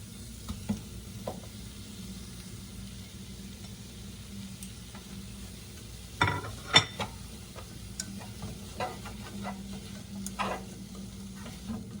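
Onions sizzle and stir-fry in a pan for tofu kimchi stir-fry, a low steady hiss underneath scattered clicks and taps of a utensil against the pan, close and fairly quiet, with no talking.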